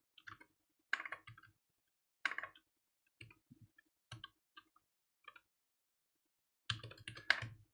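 Sparse, quiet keystrokes on a computer keyboard come in short clusters of clicks separated by pauses, ending with a denser burst of typing, close and alone.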